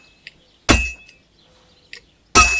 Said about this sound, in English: Hammer to a rhythm.